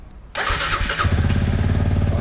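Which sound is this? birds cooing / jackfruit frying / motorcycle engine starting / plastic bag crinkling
motorcycle engine starting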